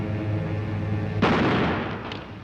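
A single sharp gunshot rings out in the 1957 western Forty Guns, a sudden loud crack that decays quickly after a quiet, low background.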